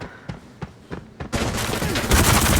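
M4 rifle fire in the video game Arena Breakout on the Farm lockdown map: several spaced single shots give way to continuous rapid automatic fire that grows louder and denser.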